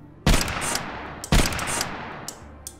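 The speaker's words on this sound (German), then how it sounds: "so eine Sniper, Elektro-Sniper" Two loud electro sniper rifle shots fired in the VR roguelike retro shooter Compound, each a sharp blast about a second apart with a crackling decay and a few fainter trailing pops.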